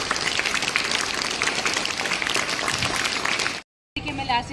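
Audience at a school International Yoga Day event at Shalini International School breaks into dense, sustained clapping for about three and a half seconds before it cuts off abruptly.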